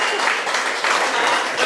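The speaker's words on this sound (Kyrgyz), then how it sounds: "Апама бир кол чаап бериңиздер" Wedding guests at a Kyrgyz bride's send-off celebration in Krasnoyarsk clap for the bride's mother in a brief, steady burst of close applause.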